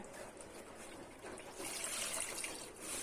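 Homemade lemonade poured with its pulp into a cloth bag and strained, giving a steady soft trickle and dribble of liquid that swells slightly louder partway through, close by with no talk.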